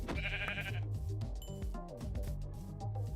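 Sheep bleating in a Minecraft-style video game, a few short bleats over steady game music, with a person talking throughout.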